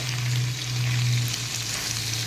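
Sliced potato stir-fry with finely chopped coriander sizzles in a pan while being stirred, a steady close frying hiss over a low hum.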